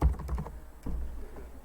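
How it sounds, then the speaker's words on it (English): Typing on a computer keyboard while setting up an Excel pivot table: a quick burst of key clicks, then a short pause and a few softer taps, close and alone. "You type the name of the"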